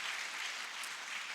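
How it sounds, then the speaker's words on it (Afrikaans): A church congregation claps together in steady, dense applause that holds at an even level throughout, heard from within the crowd. "Kom ons gee vir hulle twee 'n lieflike hande klap."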